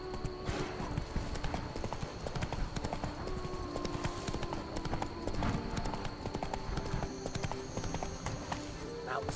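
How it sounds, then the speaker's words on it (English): Horse hooves galloping in The Witcher 3: Wild Hunt, a continuous loud rapid clip-clop of a running horse with occasional whinnies and game ambience, rhythmic and close throughout. "Run, Roach."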